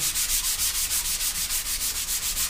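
Sandpaper scrubs across a skateboard deck in quick, even back-and-forth strokes, a close, steady rasp pulsing about five times a second with no voices.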